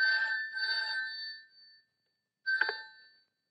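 An old-style telephone rings indoors in two electric bursts, then a third shorter ring after a gap, clear and alone with no talk.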